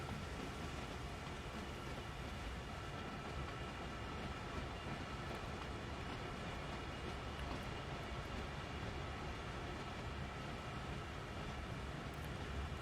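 A heavy freight train slowly loading coal at Horseshoe Curve in Train Sim World 2 fills the scene with a constant grinding rumble and a rain-like hiss of falling coal, unbroken and steady throughout.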